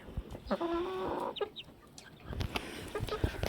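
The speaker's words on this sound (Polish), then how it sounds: "Guzik, kury są." Chickens cluck nearby in short bursts, with one sustained squawk early on, amid rustling and light outdoor background noise.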